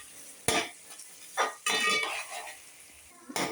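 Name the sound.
dried shrimp and onions frying in oil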